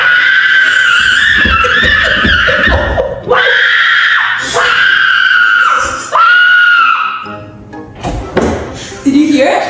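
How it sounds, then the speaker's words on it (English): Someone shouts as loud as he can, with a series of loud, strained yells and screams in bursts, mixed with laughter, thumps and other voices reacting nearby. "Grandpa shouted as loud as he could"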